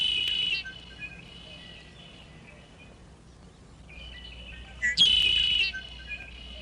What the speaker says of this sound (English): Mr. Red-winged Blackbird is here, and he calls out, "Ooka-lee, ooka-lee,"